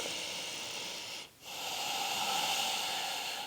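Slow, deep yoga breathing during a hip-opening stretch: a steady airy hiss of breath that pauses briefly partway through, then resumes and swells, close and alone with no talk.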